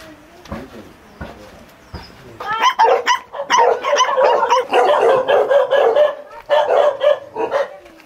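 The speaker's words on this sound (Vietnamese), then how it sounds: "Đuổi hoài anh con chó với, nó đuổi anh nhiều quá." A dog chasing someone on a mountain road in Vietnam barks in a rapid, loud volley of close, repeated barks that continue for several seconds, with a voice briefly audible.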